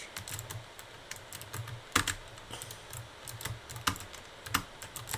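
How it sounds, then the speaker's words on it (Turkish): Rapid, uneven clicking of keys on a computer keyboard, steady typing with occasional louder keystrokes, close and clear with no talking. "Sadece sesini beğeniyorum bu klavyenin çok"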